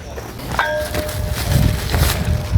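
A single clanging strike on a metal pole at Edgbaston Reservoir rings out with a lingering metallic tone, followed by rustling and scraping noises nearby.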